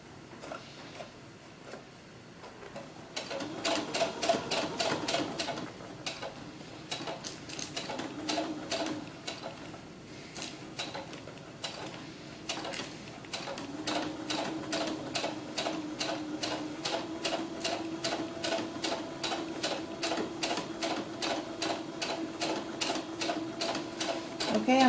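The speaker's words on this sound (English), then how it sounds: "I'm going to sew right up to that pin and do a couple back spaces, back stitches." A sewing machine stitches the skirt of a historical ball gown for a doll. After a quiet start it runs in a fast, even mechanical chatter with a brief slowdown midway, then continues at a steady pace.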